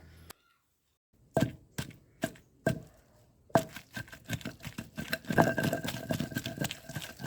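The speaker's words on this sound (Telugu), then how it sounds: "అదే రోటీలో వేయించుకున్న పచ్చిమిర్చి మిశ్రమాన్ని వేసి పైన చూపిస్తున్న విధంగా నూరుకోవాలి" Green chillies fried earlier are pounded in a stone mortar for a ridge gourd chutney, giving a run of sharp, separate thuds. Denser, continuous grinding and scraping follows, close and fairly loud, with no talk.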